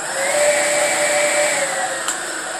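A high-power ebike motor, about 10.5 HP at the wheel on roughly 80 volts, spins at full throttle with a loud, steady high whine and no talk.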